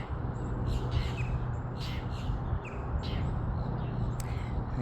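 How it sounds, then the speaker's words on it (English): Several birds chirp and tweet in short bursts over a steady low rumble of distant traffic. "you'll hear the birds chirping"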